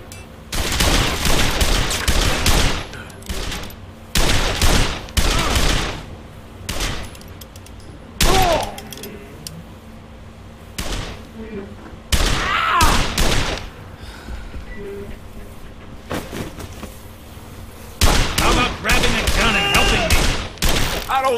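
Gunfire from the video game Blues and Bullets, a scene with bursts of rapid shots and booms in clusters across the stretch, loud and close, with quieter gaps and game dialogue and ambience between them.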